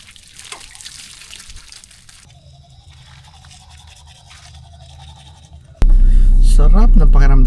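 A toothbrush scrubs teeth with water, a rapid bristly brushing sound up close, followed by a loud burst of noise and voices near the end.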